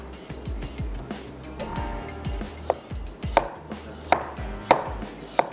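A knife slices a large onion on a board, producing a close series of crisp chops that grow sharper and more evenly spaced, with low thuds underneath.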